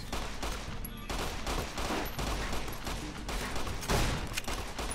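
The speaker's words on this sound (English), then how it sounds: "Look, I'll just sit here and be shot at." Gunfire in the Fallout: New Vegas video game: rapid, continuous bursts of shots crackle densely and unbroken, like a sustained firefight close by.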